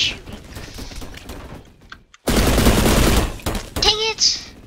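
A burst of video game gunfire follows a quieter stretch, loud rapid shots packed together for about a second and a half, with a player's voice and game effects around it.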